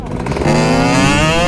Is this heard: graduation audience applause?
no